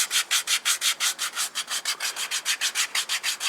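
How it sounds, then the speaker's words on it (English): Sandpaper scrapes back and forth over rough skin on a foot in steady rhythmic strokes, about six per second, close and crisp with no voices. "Now let's use the sandpaper, which is supposed to then make it a little bit smoother."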